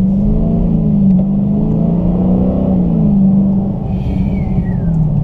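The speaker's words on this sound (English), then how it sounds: "put some pressure on the gas, you get that exhaust note back" A 2017 Dodge Challenger 392 Hemi Scat Pack Shaker throttles up with a deep, loud V8 exhaust rumble that holds steady, heard from close by throughout with no talk.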